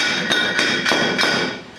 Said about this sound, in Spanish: el Proctor estándar es un molde pequeño de 4 pulgadas y con un martillo pequeño